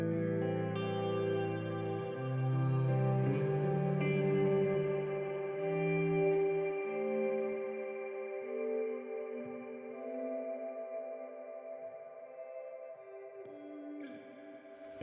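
A Meris Mercury 7 reverb pedal swells guitar chords in from silence, lush sustained tones blooming under heavy ambient reverb and echo, layered notes ringing and fading alone without voices.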